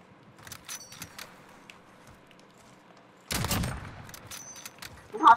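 Gunfire in a first-person shooter match, scattered sharp shots early on, then a louder burst of rapid fire in the second half, heard alone without talk.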